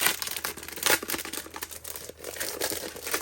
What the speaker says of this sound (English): if you really like the sound of crinkling